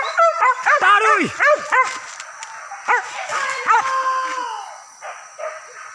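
Hunting dogs yelp and bark in rapid excited bursts during a wild boar hunt in Paninjauan, Solok, with overlapping yips and whines, some near and loud, fading toward the end as voices murmur in the background.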